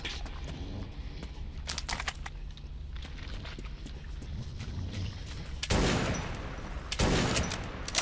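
Gunfire in the video game Metro 2033, with a few sharp shots early on and two louder bursts near the end over a low ambient game rumble.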